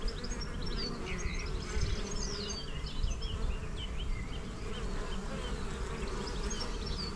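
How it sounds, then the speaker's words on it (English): A dense, continuous buzzing of many honey bees flying at a hive entrance, heard up close, with a low droning hum and scattered higher wingbeat whines, and no talking. "bees are flying in nicely"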